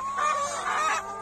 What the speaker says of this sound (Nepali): यो चाहिँ 7-8 महिनाको पोथीहरू हो